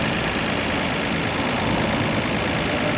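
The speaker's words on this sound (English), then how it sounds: "The engine started up without a problem at all, runs smoothly" 1990 Nissan Skyline GT-R Nismo Edition engine idling smoothly, a dense steady mechanical hum and rumble with no change in pace, close up and without voices.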